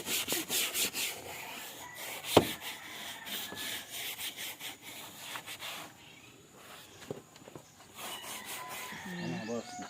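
Someone vigorously scrubs off red stuff that had been applied, a steady close rasping rub with repeated strokes and one sharp knock partway through, while a voice talks at times over it.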